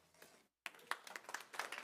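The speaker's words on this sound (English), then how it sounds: "Hold your clapping, please." Audience clapping at a school board meeting, a scattered burst of hand claps that starts abruptly after a brief silence and continues at moderate level, faint and roomy.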